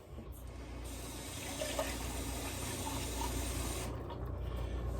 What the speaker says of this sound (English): Get a little more of that water, swirl it around, dump it in the pot